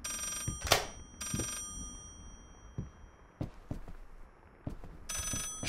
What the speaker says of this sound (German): Da ist noch ein Telefon.